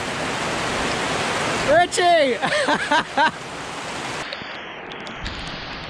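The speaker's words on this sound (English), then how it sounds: "It just started pouring down rain" Heavy pouring rain on a hot day, a dense continuous hiss of downpour filling the whole clip, with someone shouting a name briefly over it midway before the steady rain carries on.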